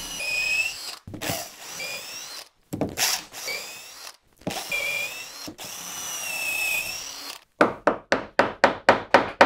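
A power drill bores holes into clamped wood from the face side, with a sacrificial board beneath, while cutting through mortises for a saw rack. Several whining runs start and stop, then a quick series of rhythmic ratcheting bursts follows.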